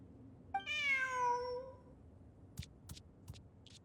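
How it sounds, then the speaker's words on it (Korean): A cat in the video game Genshin Impact lets out one clear, drawn-out meow, followed by a few brief soft clicks against a quiet background. "저기 봐. 고양이야."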